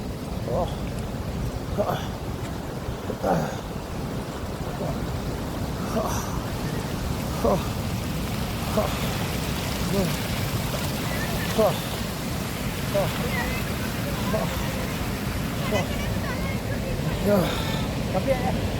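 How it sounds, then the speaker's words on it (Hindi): A mountain waterfall above Bhagsunag temple gives off a steady broadband rush mixed with wind buffeting, with faint scattered clicks throughout. "भागसुनाक टेम्पल के ऊपरी पहाड़ पर जो झरना है वहां तक मैं पहुंच चुका हूँ।"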